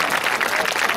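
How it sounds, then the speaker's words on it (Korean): Audience applause at a 2017 university lecture by a politician in Korea, a dense, steady wash of clapping filling the whole short moment with no talk over it. "여러분, 큰 박수 한번 부탁드립니다"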